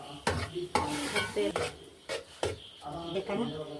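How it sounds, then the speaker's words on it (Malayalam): Chicken curry masala being stirred in a pan after water is poured in: a spoon scrapes and swishes in repeated close strokes over a faint sizzle, with a few metallic taps against the pan. "നല്ലോണം അങ്ങോട്ട് മിക്സാക്കി"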